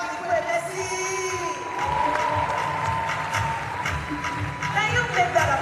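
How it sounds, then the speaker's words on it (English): Audience applause and cheering at the Interswitch Career Fair 4.0, a dense crowd clapping and whooping steadily throughout, loud and close, with voices mixed into the noise. "Can you make that applause louder now, everyone?"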